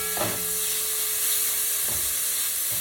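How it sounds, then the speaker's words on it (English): Steady hissing sizzle of salt pork fat frying in a pan, continuous and fairly close, with a couple of soft stirring bumps and no talking. "Hear that sizzle?"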